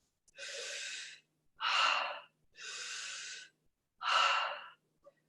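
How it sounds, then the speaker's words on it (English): Four deep breaths during a yoga session alternate inhale and exhale, each a long, loud, airy rush lasting about a second, separated by short silences and very close to the microphone. "Before we begin the rounds of breathing, which sound like this"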